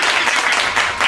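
Applause from a crowd, a dense, steady wash of many hands clapping at once at close range, continuing without a break with no speech.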